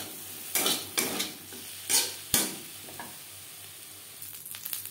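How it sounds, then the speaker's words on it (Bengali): Neem leaves frying in a little mustard oil on a tawa, a low steady sizzle broken by several sharp clinks and scrapes of stirring, close and fairly quiet. "তাওয়া বসিয়েছি, দিয়ে দিয়েছি সামান্য পরিমাণে সরষের তেল। আমি তাওয়ায় করে ভাজছি"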